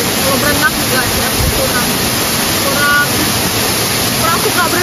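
Temesi waterfall pours and splashes hard into its pool, a loud, continuous roaring wash filling the whole stretch with no voices.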